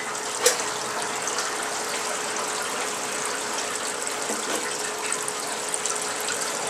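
Water runs steadily from a hose into old Mikuni carburetors on a Suzuki GS450 twin during cleaning, a constant close gush with a faint tonal hum and a brief knock near the start.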